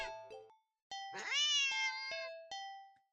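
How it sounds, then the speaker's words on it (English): A cat gives a sharp, loud, drawn-out meow at close range, preceded by a shorter cry, with a few bright chime-like tones scattered around it. "the cat meows sharply at you and dashes off around the corner into the hall"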